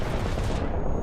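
Tank cannon fired from a Panzer IV F2 in War Thunder: a loud, heavy, sustained boom filling the whole moment, its roar ringing on steadily without fading.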